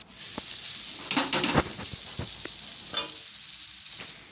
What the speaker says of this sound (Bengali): এবার আমি নুডলসটা দিয়ে ভালো করে নাড়তে থাকলাম